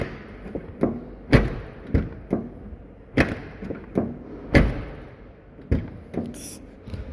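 Doors of a 2022 Toyota LandCruiser 70 series GXL are opened and shut repeatedly, a series of solid metallic thuds and latch clunks at irregular intervals, close and loud.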